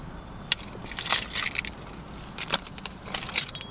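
Ford Escape car keys with a remote fob jangle in several short metallic bursts, close and fairly quiet, with no talking.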